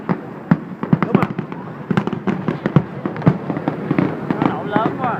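Fireworks burst loudly on New Year's Eve in Kien Giang, Vietnam, a dense, irregular barrage of sharp cracks and booms, some near and some farther off, while people talk over them.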